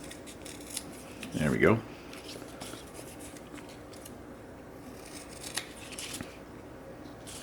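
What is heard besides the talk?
scissors cutting the corners of kinesio tape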